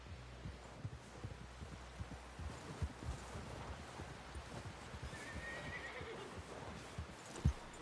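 A horse whinnies over a steady patter of hooves in Red Dead Redemption 2, with a few heavier thuds, all at a soft, somewhat distant level.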